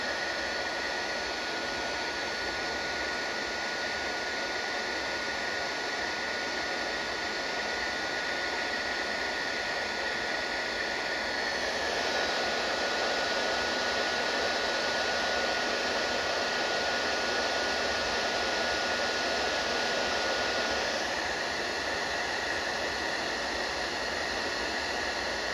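A heat gun warms up while crimped wires are heat-shrunk during a Pole Position arcade machine restoration. Its steady, loud blowing roar runs unbroken throughout, shifting slightly in tone partway through.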